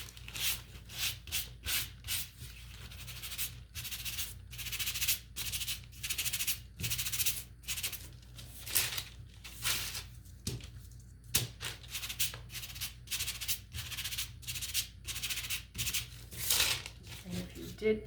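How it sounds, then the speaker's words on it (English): Sandpaper rubbing back and forth over a wooden toy truck part, steady close scratchy strokes in quick repeated bursts with brief pauses, no talking. "we can come in and sand this one in the meantime"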